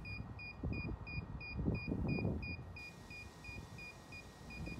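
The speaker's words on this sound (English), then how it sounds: "it will start beeping again." A DJI Phantom 4 Pro RTK remote controller beeps in steady, evenly spaced short tones, first in paired chirps and then as a lighter single-beep pattern, over a constant outdoor rumble.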